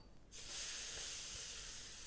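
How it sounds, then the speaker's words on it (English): Water poured into a hot pan on a kitchen hob bursts into a loud, sustained hiss of sizzling that starts abruptly and holds steady, close up and alone. "So this is a sizzling noise"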